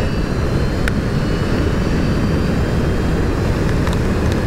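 An electric motorcycle with a 96 V system and a Sotion GTS35 motor rides at full throttle near 80 mph, giving a loud constant roar dominated by wind rush with a faint motor whine throughout.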